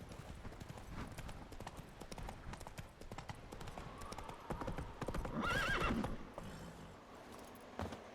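Roach, the horse in The Witcher 3, gallops with a steady clip-clop of hooves close by and whinnies once midway. The hoofbeats sit over a busy game soundscape.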